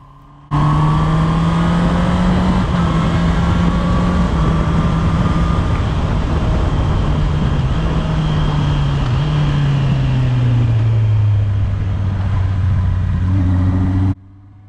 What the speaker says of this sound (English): You've got to rev it to get it going.